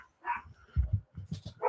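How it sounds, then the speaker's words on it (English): Puppies bark indoors in a short burst of quick, fairly faint yips and barks at a moderate distance. "puppies barking a lot"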